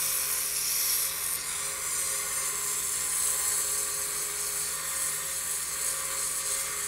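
A wooden dart spins on a lathe while 240 grit sandpaper is pressed against it, giving a steady, loud high-pitched whine with a sanding hiss that holds throughout.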